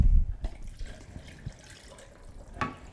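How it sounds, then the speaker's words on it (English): Water poured from a tap into a pot while making soup in a home kitchen, a splashing, trickling flow with a few louder splashes and drips, close by and alone. "And then I'm going to add my water."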